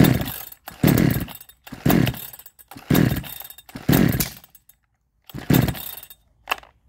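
A 62cc Chinese chainsaw engine bursts into loud, close revving in a string of short rasping blasts with brief gaps between them, trailing off near the end.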